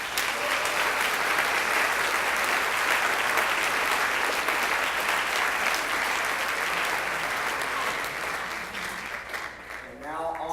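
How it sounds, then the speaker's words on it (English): An audience applauds a student orchestra board at a spring orchestra concert, with sustained, even clapping across a large room that thins slightly near the end as a voice begins to speak. "Please give them a round of applause."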